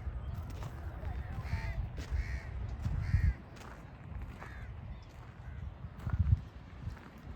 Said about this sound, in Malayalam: കാക്ക കരയുന്നുണ്ട് അപ്പൊ ചിലപ്പോ കാക്കയുടെ കൂടാവും